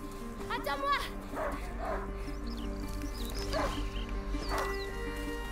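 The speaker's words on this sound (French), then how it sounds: "un chien de chasse" A hunting dog barks in the video game A Plague Tale: Innocence, giving several sharp yips and barks spread across the moment over a low game ambience.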